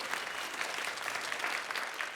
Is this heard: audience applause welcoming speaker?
yes